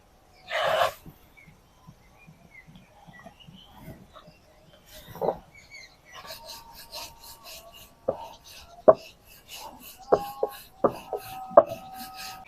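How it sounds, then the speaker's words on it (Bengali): Rice flour roti dough being rolled out by hand with a rolling pin in a home kitchen, a series of soft rubbing, scraping strokes and light taps, close and fairly quiet, with no talking. "এইভাবে করে আমি কিছুটা রুটি বেলে দিব"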